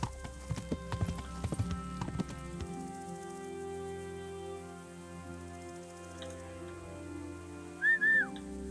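Horse hooves clip-clop as a rider sets off in the video game Kingdom Come: Deliverance. A quick burst of hoofbeats gives way to a steadier gait, and a short whistle sounds near the end. No one speaks.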